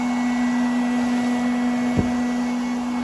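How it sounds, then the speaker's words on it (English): Coral One 2-in-1 robot vacuum running with strong suction, a loud, steady motor whine with a constant tonal hum close by, broken only by one brief soft knock midway. "Sounds like the suction is pretty strong."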